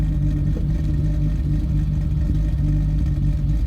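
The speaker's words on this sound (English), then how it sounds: "It's got little twin plate rattles." An HKS-built 2.8L stroker RB26 car idling or rolling with a twin-plate clutch, giving a loud, steady low engine rumble with a faint rattling texture and no talk.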